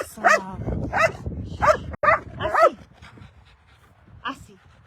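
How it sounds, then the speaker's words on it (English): A dog barks loudly and close on a horse ranch, several sharp yapping barks in quick succession, then trails off into quieter sounds with a faint distant yip. "I'll call her over and then perhaps the barking will be less."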